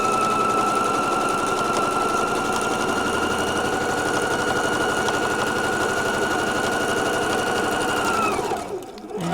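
A sewing machine runs in one long, loud, steady burst while stitching fabric for a sparkly tote bag, its rapid mechanical hum continuing without pause until it stops abruptly near the end.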